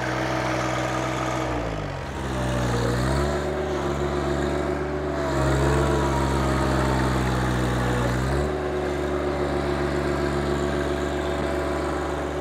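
A John Deere 1025R compact tractor engine runs steadily and close, droning and rising and falling in pitch several times as the throttle changes, during road repair work in Honduras.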